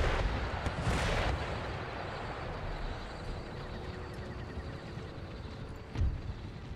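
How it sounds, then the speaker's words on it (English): Howitzer artillery firing round shot in Empire Total War, heard as a deep rumbling boom at the start and another distant thud near the end over a constant battle din. "So I'm going to let my howitzers fire round shot for now."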